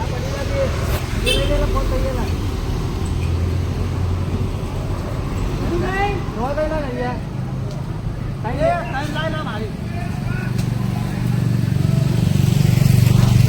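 A motorcycle ride, its engine a steady low drone with road noise beneath people talking throughout, growing slightly louder toward the end.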